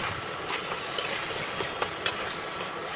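Fish fries in a pan in a home kitchen with a steady sizzling hiss, broken by occasional sharp crackling pops.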